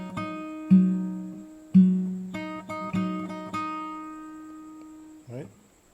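Fingerstyle acoustic guitar picks out the opening of a song, a few plucked notes and chords ringing and decaying cleanly, fairly quiet and with no talk.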